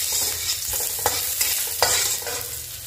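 Garlic and shallots sauté in a wok with a steady, bright sizzle, punctuated by a few sharp stirring scrapes at close range, with no voices.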